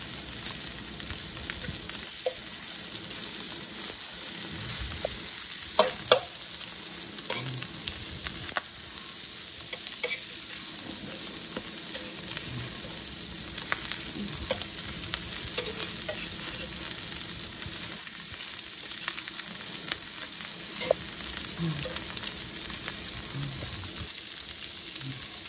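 Sausages sizzle and fry in a pan at breakfast, a steady close crackle with occasional stirring and scraping running throughout.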